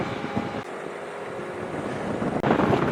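Steady, rushing wind buffets the microphone outdoors as talc powder swirls, with a low rumbling roar and a sharper gust near the end.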